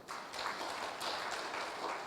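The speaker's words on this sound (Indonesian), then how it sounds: "tepuk tangan buat Tuhan" A church congregation claps together in steady, dense applause that fills the room at moderate level for a short stretch.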